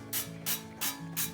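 Cooking spray oil hisses from a pump bottle into a pan, in four short, evenly spaced bursts, soft and close, with no talking.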